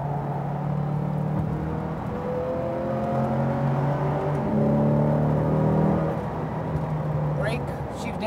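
A Chevrolet Corvette C8 accelerates hard on the Speed Vegas track, its engine note climbing steadily and loud throughout, with a voice talking over the engine.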